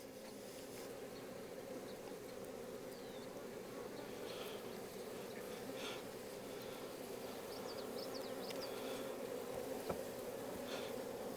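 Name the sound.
honeybees buzzing around an opened beehive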